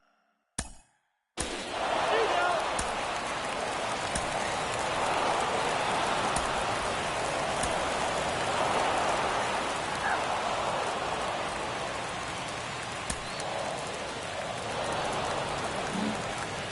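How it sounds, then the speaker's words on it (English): Steady, dense rain hisses across a stadium during a rain delay in the baseball video game MLB The Show 23, starting abruptly after a short burst and continuing loud and even throughout. "We are officially in a rain delay as they'll put the tarp on the infield and hope this one passes quickly"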